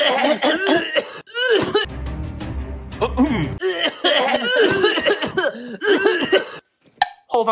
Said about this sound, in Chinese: 后方观众席咳嗽声此起彼落